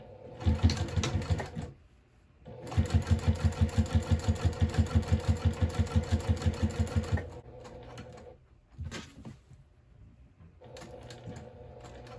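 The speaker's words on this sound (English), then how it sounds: "So we'll just go ahead and stitch around that at 1/8 of an inch seam allowance." A sewing machine topstitches a bag panel in a rapid, steady mechanical run lasting several seconds, with shorter bursts of stitching and handling noises before and after, loud and close.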